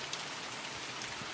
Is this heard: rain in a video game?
yes